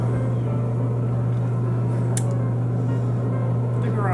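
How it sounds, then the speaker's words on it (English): A garage door runs with a steady low mechanical hum and drone throughout, fairly loud and close, with a brief higher squeak partway through and no talk over it. "The garage door is a little loud."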